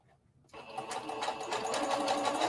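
A serger or sewing machine starts up after a brief quiet and stitches continuously along a circle dress hem, a loud, close, steady mechanical whir.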